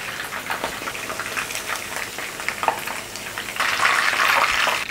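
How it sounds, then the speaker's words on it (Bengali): Chicken frying in oil over high heat, a steady close sizzle and crackle that swells louder and denser toward the end, with no speech. "হাই হিটে চিকেনটাকে নিয়ার অ্যাবাউট 15 মিনিট আমি ভেজে নিয়েছি।"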